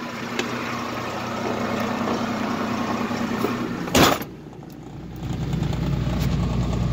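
A Ford F650 truck engine idles with a steady low rumble throughout, joined by a brief sharp clunk near the middle, after which the idle continues slightly lower and quieter.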